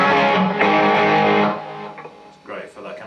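Overdriven electric guitar through an OCD pedal with panning delay, playing a gritty classic rock rhythm figure: loud sustained distorted chords for about a second and a half, then quieter picked notes and short delayed repeats.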